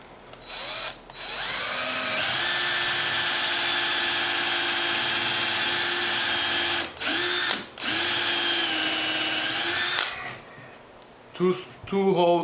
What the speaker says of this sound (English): I pre-drill one hole before I make the screw.